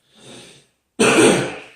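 A man near a microphone clears his throat softly, then after a short silence lets out one loud, harsh cough close to the mic.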